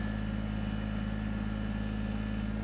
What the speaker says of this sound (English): you can hop on the tractor and pull forward